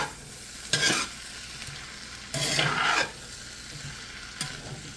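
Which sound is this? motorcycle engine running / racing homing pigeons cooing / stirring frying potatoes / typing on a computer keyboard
stirring frying potatoes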